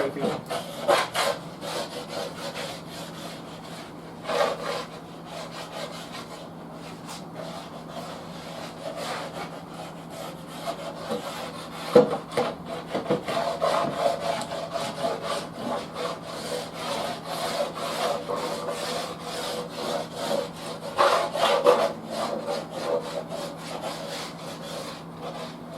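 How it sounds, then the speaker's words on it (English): A scraper drawn across stripped oak cabinet wood, working with the grain in steady, rasping strokes that repeat close up across the whole stretch, with no talk. "actually go with the grain a little bit. And scraping."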